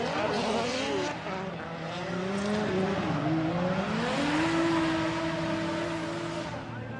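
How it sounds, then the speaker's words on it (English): A drift car at full throttle during a Formula Drift qualifying run at Ebisu in Japan screams loudly, its engine pitch climbing and wavering as it revs hard, mixed with tire noise. "Throttling, nothing but throttle to outer zone 2."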